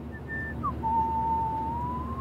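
A character in the video game Life is Strange whistles a short tune: a few brief high notes, then one long sustained note, heard alone and close against a quiet background.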